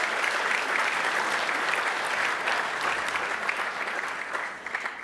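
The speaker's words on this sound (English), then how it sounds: "A round of applause to celebrate our hard-working judges and to welcome our new ones." Sustained audience applause at an awards gala for an ethnic business awards ceremony, dense steady clapping from a large crowd that holds loud for five seconds before easing slightly at the end.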